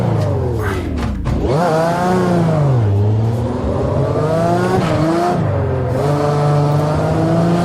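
A car engine revs hard and continuously while drifting, its pitch swooping up and down with throttle changes and gear shifts, loud and close throughout.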